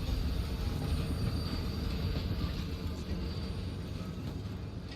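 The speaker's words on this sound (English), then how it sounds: "We could climb onto the train and use that to travel through." Train rolling past in Dishonored 2, a steady, loud rumble of carriages and wheels on rails holding throughout, with no talk over it.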